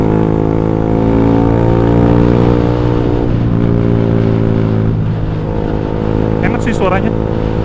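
Motorcycle under 200 cc fitted with an X1speed Pro One exhaust with 50 mm inlet, a loud close droning engine note with revving swells, someone talking over it throughout.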